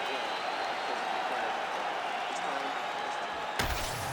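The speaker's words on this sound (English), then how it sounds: "the crowd voicing its appreciation after that round" A dense arena crowd roars continuously after a round in the UFC 5 video game, loud and sustained, ending with a sharp cut to different sound.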